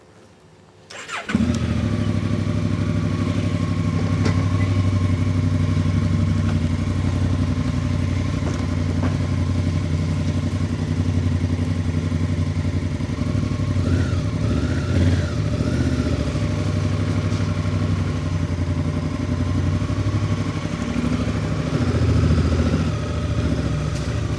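A Honda CRF1000 Africa Twin motorcycle engine with about 20,567 km starts up and then runs continuously at a steady, throaty idle, loud and close, with a brief faint voice in the middle.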